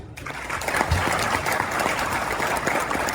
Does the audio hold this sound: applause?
yes